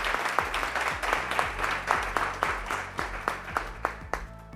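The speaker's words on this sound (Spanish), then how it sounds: "Un fuerte aplauso." Audience applause at a women-in-innovation session, with a mix of many hands and a few distinct, sharper claps in an uneven pulse, moderately quiet and steady throughout, with no one speaking.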